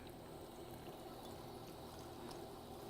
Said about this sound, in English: Then we're just going to add a little bit of cold water right from the tap.